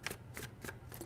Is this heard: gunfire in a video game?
no